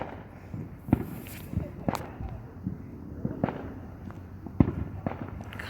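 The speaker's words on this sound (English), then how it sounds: "These fireworks are very good from where we live." Fireworks burst at a distance in a run of sharp, scattered bangs and crackles, some louder and nearer than others, over a low outdoor background.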